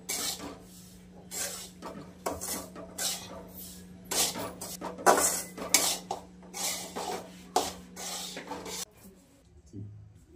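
Semolina roasting in ghee on low heat in a pan for rava laddoos, stirred with a utensil that scrapes and rubs against the metal in irregular bursts, with a steady low hum underneath.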